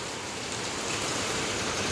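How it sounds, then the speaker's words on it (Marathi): Steady rain falls outside a home gallery, a dense, even hiss of drops with no voices. "आज पाऊस लागलो त्याच्यामुळे बघूया घरात आज काय स्पेशल पदार्थ बनतात"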